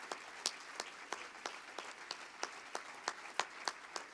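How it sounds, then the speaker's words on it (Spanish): A church congregation claps in a steady, even rhythm, sharp repeated hand claps at moderate distance with a faint room background and no talk over them. "Let's give a loud hand to the Lord."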